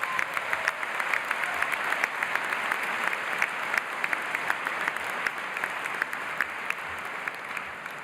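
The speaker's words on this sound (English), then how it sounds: "please give a great applause for Rajat." A graduation ceremony audience claps steadily and enthusiastically, a dense patter of many hands sustained for several seconds without talk.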